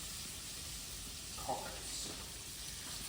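Gnocchi fry in oil in a non-stick pan once the lid comes off, giving a steady close sizzle and hiss throughout, with a person talking briefly over it.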